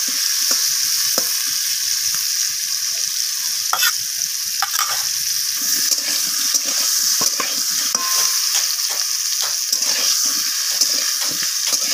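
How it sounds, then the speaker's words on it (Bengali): Potatoes tossed with salt and turmeric fry in a pan, a continuous close sizzle broken by frequent spatula scrapes and clicks of stirring, with no voices. "লবণ আর হলুদটাকে আলুর সাথে মিশিয়ে নিয়ে আমি আলুটাকে লালচে করে ভেজে নেব"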